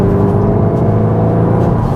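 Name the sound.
Mk3 SEAT Leon Cupra engine and exhaust sound, Cupra mode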